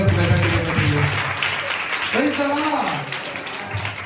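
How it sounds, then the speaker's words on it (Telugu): A church congregation at an anniversary service claps steadily and loudly for several seconds, the applause fading slightly toward the end with a voice briefly speaking over it. "చప్పట్లు కొట్టు."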